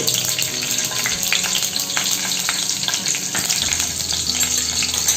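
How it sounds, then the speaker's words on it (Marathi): Cumin seeds sizzle in three tablespoons of hot ghee in a kadhai, a loud, steady, close crackling hiss that runs continuously with no voices over it. "तूप गरम झालं की त्याच्यात जिरे घालू"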